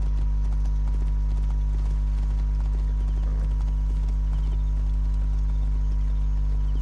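Horse hooves clip-clopping in the video game Assassin's Creed Origins, a steady, rhythmic trot of hoofbeats over a constant low game hum, with no voices.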